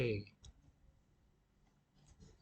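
A computer mouse clicks the print button in clinic lab software with a short, faint click that follows a brief burst of voice, then quiet room tone.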